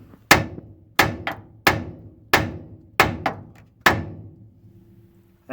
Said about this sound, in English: which is smack that with a hammer.